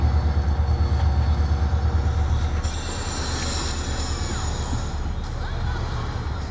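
A low, steady rumble of a moving train in GTA San Andreas with a faint metallic hiss and squeal, continuous throughout and fairly loud.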